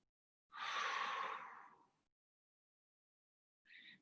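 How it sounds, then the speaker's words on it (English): A long, audible exhale lasting about a second and a half comes from a mindfulness breathing exercise, followed by quiet and then the start of a short breath. "you inhale normally, and the exhale should be longer"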